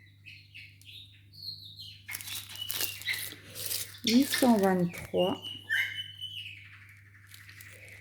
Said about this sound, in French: Vous entendez mes oiseaux chanter